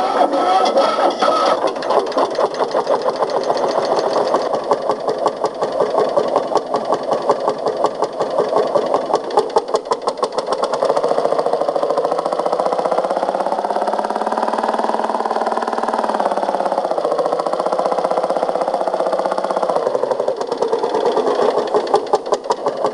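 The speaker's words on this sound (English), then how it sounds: "This is a Lanz 1 tractor," A vintage Lanz single-cylinder tractor engine runs with a steady, rapid thumping knock, loud and close, its pitch shifting slightly midway as the revs change.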